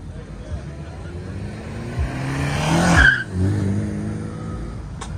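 A car roars past close by accelerating away from a car meet in Barueri, São Paulo, engine revving hard and tires briefly squealing, with other traffic and voices in the background.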